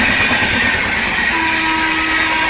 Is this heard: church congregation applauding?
no